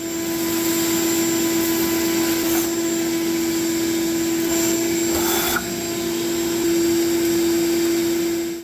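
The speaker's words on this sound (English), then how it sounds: "Time for the shop vac." A shop vac roars loudly and continuously while cleaning out a clogged Craftsman lawn mower, with brief changes in pitch as debris is sucked through.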